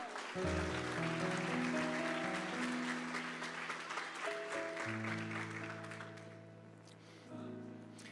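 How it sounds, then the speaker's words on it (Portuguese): A church congregation applauds during a worship service, steady clapping over sustained organ or keyboard chords that hold and shift, fading slightly toward the end. "Pode aplaudir Jesus."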